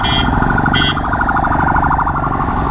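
A loud wailing ambulance siren close by in road traffic, its warbling tone cycling continuously over a constant rumble of traffic.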